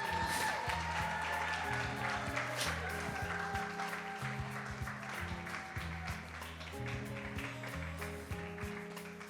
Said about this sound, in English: Y'all applaud this gentleman right here